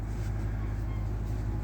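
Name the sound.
diesel train engine humming in the background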